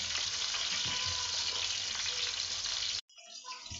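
Garlic frying in a pan, a dense steady sizzle close by for about three seconds, then cutting off abruptly to quieter, faint crackling.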